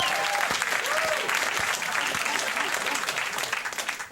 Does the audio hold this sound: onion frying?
no